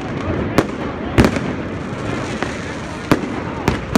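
New Year's fireworks in Prague crack and boom in sharp scattered bursts, several loud nearby bangs over a constant dense rumble of distant explosions and crowd noise.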